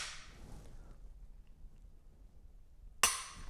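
A crisp, close metallic click of a pistol's dry-fire trigger break on a gun fitted with a Mantis X10 sensor, one sharp snap near the end after a faint earlier rustle and near silence.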